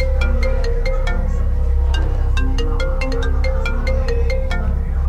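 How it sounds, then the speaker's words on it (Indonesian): A mobile phone ringtone plays in an Indonesian drama, a loud, repeating melodic pattern of bright chiming notes over a steady low background hum, with no speech. "Wah, HP aku bunyi nih."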